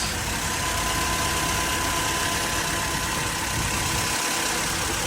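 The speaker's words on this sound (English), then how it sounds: "the engine sounds clean, sounds pretty good" A used Vauxhall Corsa engine idles steadily and smoothly with a constant mid-low hum and a faint whine, sounding close and continuous for the whole stretch with no voices.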